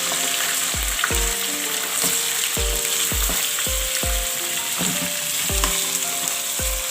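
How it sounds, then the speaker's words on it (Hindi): Chicken fries with ginger and garlic paste in a karahi, a steady close sizzle broken by repeated low thuds and scrapes of stirring at a regular rhythm throughout. "साथ ही में हम चिकन शामिल कर देंगे और इसको इतना फ्राई करेंगे कि थोड़ी थोड़ी गोल्डन हो जाएगी।"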